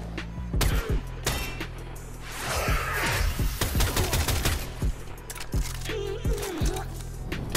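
Latron Prime rifle fire in Warframe, with rapid loud bursts of shots and impacts repeating across the whole stretch, the action game sounds dense and close.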